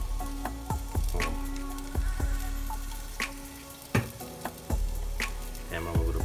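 A ground bison burger patty seasoned with pink Himalayan salt sizzles in a pan, crackling steadily while sharp knocks and scrapes from handling and flipping it punctuate the frying up close.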